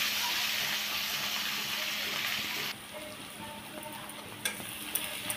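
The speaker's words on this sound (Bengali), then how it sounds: "এবার পেঁয়াজগুলোকে আমি একটু লালচে লালচে করে ভেজে নেব।" Chopped onions sizzling in hot oil for mutton kosha, a loud frying hiss that drops suddenly midway to a quieter sizzle with a few stirring knocks.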